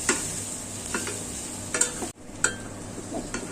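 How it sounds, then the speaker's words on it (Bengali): Leafy greens stir-fried in oil in a wok, a continuous close sizzle with brief scraping stirs and a short break partway through. "আমার শাকটি ভাজা ভাজা হয়ে গেছে"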